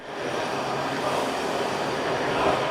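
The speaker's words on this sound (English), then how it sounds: "It's been months since Rebecca Creedle made the short walk from her home to the Prince George's Plaza Metro Rail Station to hop the train." A Metro Rail train at Prince George's Plaza station rumbles past, a loud, steady roar of wheels on track with a faint squeal, continuous and close throughout.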